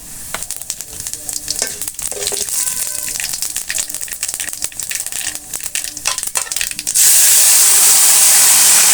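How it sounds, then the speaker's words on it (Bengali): Dried chillies, cumin and nigella seeds hit hot oil with a loud, close sizzle full of crackles, and the sound swells into a bright, hissing roar for the last couple of seconds. "তো তেল গরম হয়ে গেছে, আমি শুকনো মরিচ দিয়ে দিচ্ছি। কিছু জিরা এবং কালিজিরা দিয়ে দিচ্ছি।"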